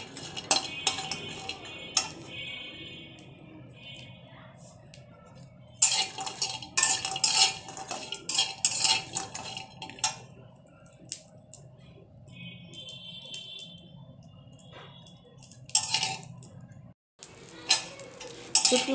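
Dried fish (shutki) fries gently in oil in a pan, heard as a soft sizzle under repeated clinks and scrapes of a metal utensil stirring against the pan, in bursts with short pauses.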